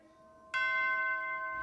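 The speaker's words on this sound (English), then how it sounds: "Quick, I hear the Christmas bells." Christmas bells ring out suddenly after a brief quiet, a bright sustained chime that lingers and hums on, with another strike near the end.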